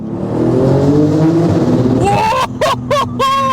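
A Porsche 911 GT2 RS (992) engine revs hard and climbs in pitch, then snaps through quick gear changes with sharp bursts, loud and close.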